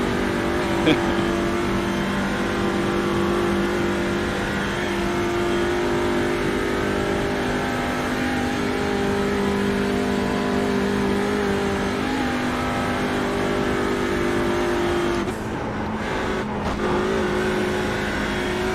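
TCR touring car engine in a racing video game at the Suzuka circuit drones steadily at high revs for a long stretch, with a brief dip near the end, while someone talks over it.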